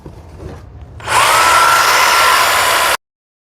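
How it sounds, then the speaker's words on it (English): A jigsaw cuts into the wooden handle of a seam roller clamped in a vise, a loud steady buzzing whine that starts abruptly after a quiet moment and runs for about two seconds before stopping. "continue working the tool with the jigsaw on this side"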